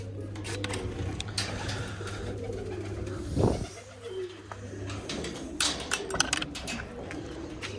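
Pigeons coo softly while being fed grain and water, low soft calls under a steady hum, with scattered clicks and rustles nearby.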